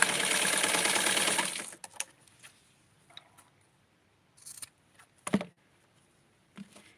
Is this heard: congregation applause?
no